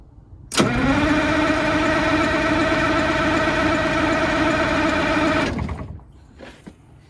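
A Detroit Diesel bus engine cranks and catches with the throttle opened, roaring into a loud, sustained droning run for about five seconds before cutting off, leaving faint knocks in a quiet space.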